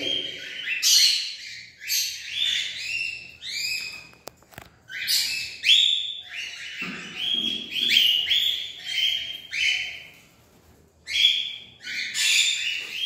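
Birds at a nesting colony trade bright chirps and whistled calls in quick overlapping bursts, loud and close, with brief pauses between volleys and no voices.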